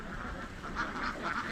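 Many ducks from a big farmed flock at Karuvatta in Kerala quack together in a steady, dense chorus, fairly close and continuous throughout.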